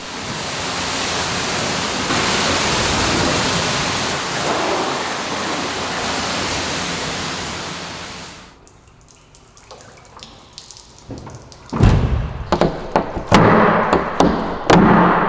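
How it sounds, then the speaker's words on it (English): A street sweeper is rinsed with a water mist, giving a steady loud hiss for about eight seconds, then quieter drips and splashes with a few sharp thumps and clatters. "So we'll just rinse this off with a mist real quick and we'll be done."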